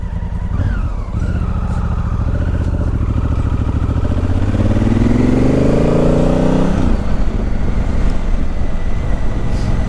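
Motorcycle engine running steadily and loud throughout while out riding on a sunny day, with a rising rev and acceleration in the middle before settling back to a constant drone.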